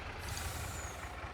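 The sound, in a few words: truck air brake in video game Farming Simulator 22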